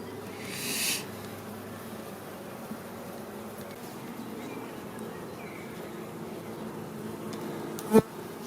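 A faint, steady buzzing of honey bees at a hive hums low in the background, with a soft rustle near the start and a brief knock near the end.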